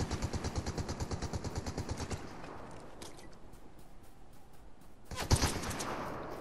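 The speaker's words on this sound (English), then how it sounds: "Yeah, they're shooting at me." Rapid automatic gunfire rattles in a fast steady burst during a Fortnite match, then trails into scattered reports and a loud final volley, close and with no talking.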